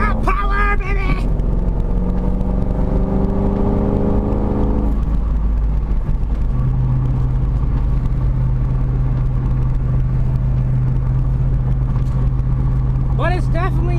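A Ford Mustang's engine revs hard as the car accelerates, a rising tone that climbs for several seconds and then settles into a steady cruising drone, with brief voices at the start and end.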